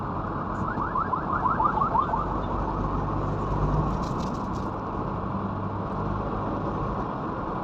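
A car alarm sounds over heavy road rumble on the NLEX expressway, its rapid warbling chirps brief at first, with steady traffic noise continuing throughout.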